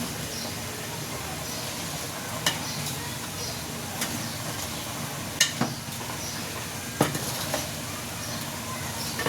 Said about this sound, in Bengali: শাকটা ভালো করে নেড়ে চেড়ে নিলাম।